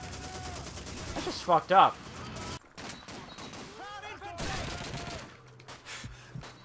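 Gunfire in the World War II shooter Call of Duty 2 on Veteran difficulty, with a tank firing among other weapons: bursts of shots and a loud blast under explosions and game noise, while someone talks over it.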